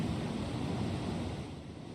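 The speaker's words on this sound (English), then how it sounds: "And once again, the wind, it went up." Storm in a video game: gusting wind roars with crashing waves as a continuous, dense rush of noise that fades slightly toward the end, with no voices.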